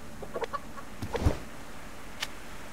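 Chickens in the survival video game Subsistence give a few soft, scattered clucks at moderate distance, short bursts with quiet gaps between them.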